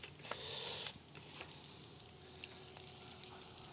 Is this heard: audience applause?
no